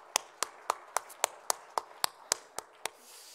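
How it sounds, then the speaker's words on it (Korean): Twelve single hand claps in an even, steady rhythm ring out in a church during a welcome, each crisp and close, with no talking between them. "다시 한번 우리 환영의 박수 다시 한번 올려드릴까요?"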